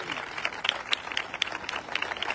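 Applause from an audience at a large church meeting in Gurdaspur, a brief burst of many hands clapping together in a lively, continuous patter.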